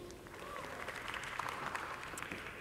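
An audience at an engineering faculty graduation ceremony applauds the graduates, a dense sustained round of clapping from a large crowd filling the hall throughout.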